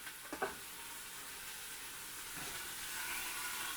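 Vegetables hit a hot pot for Jamaican braised oxtail, a couple of stirring clanks and then a steady close hiss of sizzling that swells slightly, with no talking.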